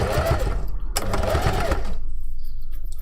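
A sewing machine runs a second row of stitching around the base of a kitsune fox fursuit tail, whirring loudly up close in two runs with a brief pause, then stopping for the last second.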